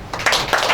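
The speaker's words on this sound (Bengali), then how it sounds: "এটা জোরে হাততালি হোক।" An audience at a Vijoya Sammelani gathering in Kolkata breaks into close, fairly loud clapping, with a few sharp bursts over a brief moment.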